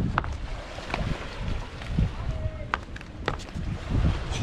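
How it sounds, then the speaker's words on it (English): Wind gusts across the microphone outdoors by a lake, a rough continuous rumble with occasional bumps and faint voices in the background. "Oh, it's a bit windy."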